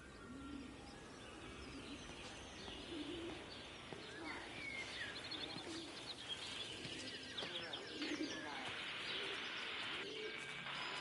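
Pigeons or doves coo in a slow, repeating pattern while smaller birds chirp and tweet above them, a steady outdoor birdsong bed from the game Everybody's Gone to the Rapture with no voices.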